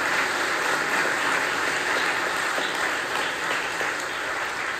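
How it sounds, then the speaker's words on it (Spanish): A church congregation claps together at a Sunday Mass, a dense, sustained round of applause that fills the room at steady loudness for several seconds. "Les damos un aplauso."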